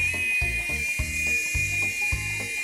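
A small AirFun AF610 three-channel RC helicopter in flight gives a steady, thin high motor whine with rhythmic pulsing from its spinning rotors, close and continuous, with no voices.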